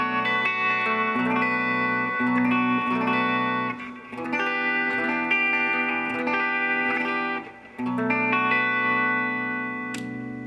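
Budget Xaviere electric guitar played on its bridge pickup through a vintage Gibson tube amp with a Boss DS-1 distortion pedal, bright sustained chords and notes ringing with effects, briefly dipping twice, no talking.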